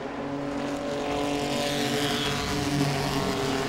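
Pro-Six race cars at Langley Speedway, engines roaring loudly and continuously as the pack races around the oval, with layered motor tones and no talk.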